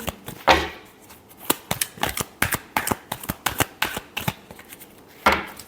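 Tarot cards being shuffled by hand, a run of crisp rapid riffles and taps in close, irregular bursts, loud and free of speech.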